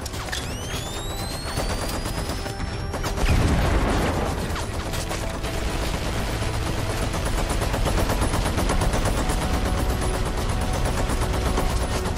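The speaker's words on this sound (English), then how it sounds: "I'm gonna use the flash grenade." A flash grenade goes off with a rising whine and a sharp burst, then dense, rapid automatic gunfire runs on continuously, loud and close, with clattering mechanical clicks underneath.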